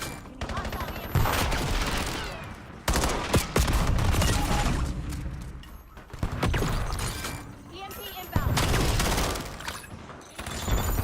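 Rapid burst-fire volleys from a gun in a Call of Duty: Black Ops 7 beta Hardpoint match, repeated loud clusters of shots with explosions in a chaotic fight while a voice talks.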